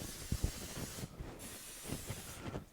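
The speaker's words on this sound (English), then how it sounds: "quickly spray a little bit of non-stick spray on here" A steady hiss of non-stick cooking spray runs through the clip, close and fairly quiet, with a few soft knocks underneath, sprayed onto a waffle maker.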